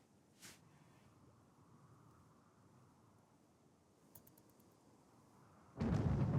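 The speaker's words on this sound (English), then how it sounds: "Oh dear, dry thunderstorm." A rumble of thunder from a dry thunderstorm in the video game Rimworld swells in abruptly near the end and stays loud, following a quiet stretch broken by only a brief faint burst early on.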